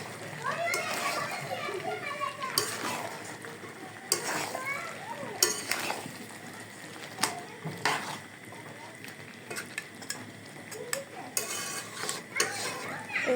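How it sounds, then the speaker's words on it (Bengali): A spoon scrapes and stirs spices frying in a pan for a beef curry, with a soft sizzle underneath, in repeated strokes, while someone talks and children's voices are heard in the background. "এই যে আমি মশলাগুলো এখানে দিয়ে কষিয়ে নিচ্ছি"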